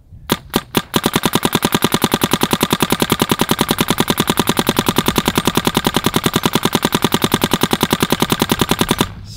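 A Planet Eclipse Geo R5 paintball marker fires three spaced shots, then a long, fast, evenly rhythmic string of sharp pops for about eight seconds, loud and close with no voices.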